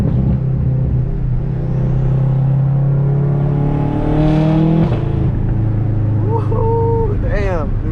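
A BMW F10 M5 engine drones loud and close, then blips sharply through quick downshifts with rising revs near the end.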